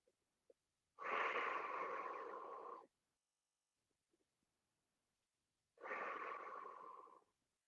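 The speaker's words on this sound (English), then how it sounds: "Wherever you find that tension, let's breathe into it a few times." Slow, deep breaths during a guided stretching session, two long airy exhalations of about two seconds each separated by a quiet pause, close to the microphone and with no talking.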